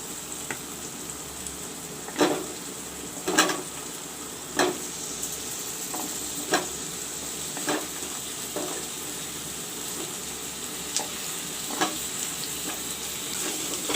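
Potatoes fry and sizzle in a pan of browned onion, ginger and garlic paste for an aloo baigan dish, with a steady hiss and periodic louder clatters of stirring, close and without speech.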